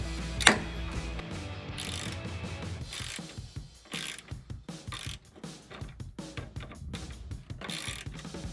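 A 10mm socket ratchet backs out headlight screws on a 2008 Dodge Ram 2500, with repeated close, crisp clicking bursts separated by short pauses and brief handling noises.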